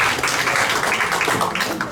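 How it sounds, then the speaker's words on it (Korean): An audience at an academic conference gives dense, steady applause for a professor about to present. The clapping runs unbroken throughout at a fairly loud level and fades slightly at the end, with no talking. "박수 한번 부탁드리겠습니다"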